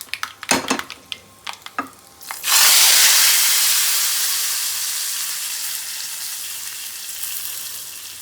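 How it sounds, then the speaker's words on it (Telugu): Asafoetida tempering for Andhra-style tamarind-leaf dal: a few sharp clinks and taps, then a sudden loud sizzle bursts up as the hot tempering meets the dal, hissing strongly and slowly fading over several seconds. "కొంచెం ఇంగువ వేసుకొని మంచిగా ఫ్రై అయిన తర్వాత పప్పులోకి వేసుకోవాలి"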